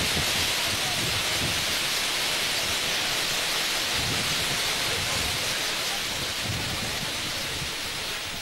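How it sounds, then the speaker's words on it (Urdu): Heavy rain pours down in Islamabad, a dense, steady hiss with low rumbles of thunder rolling underneath throughout. "اسلام آباد میں شدید بارش شروع ہو چکی ہے"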